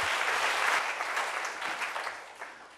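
Congregation applauding in a church service, a steady wash of many hands clapping together, moderately loud and continuous, tapering slightly toward the end with no talk over it.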